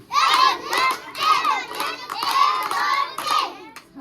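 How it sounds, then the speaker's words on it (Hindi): A group of children at a school shout in rhythmic bursts of welcome, with clapping mixed into the chanting. The sound repeats four or five times, loud and close. "स्वागत, ताली।"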